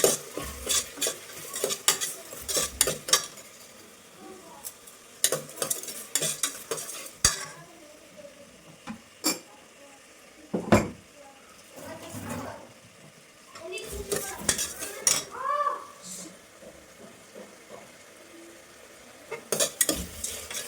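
Spinach pulao being stirred in a pan, giving repeated scraping and clinking strokes of a utensil with a light sizzle underneath, arriving in irregular bursts with short pauses, and a voice speaking at times.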